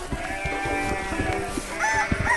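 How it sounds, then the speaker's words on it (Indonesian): White sheep in a farm flock on green grass bleat over a busy, continuous musical backdrop, with a few high bleating calls rising near the end amid steady tonal sound. "Lihat domba putih yang lucu ini."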